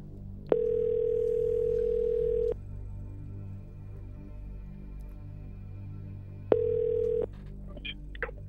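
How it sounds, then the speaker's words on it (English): Telephone ringback tone on an outgoing phone call: a steady electronic tone sounds for about two seconds, falls silent for several seconds, then returns for a shorter burst, with no talking. "Let's make the phone call."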